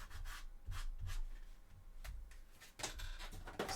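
Small glued-on armour teeth pieces for a Warhammer 40K Sisters of Battle model being sanded by hand, heard as close, quiet bursts of dry rubbing and scratching strokes separated by brief pauses.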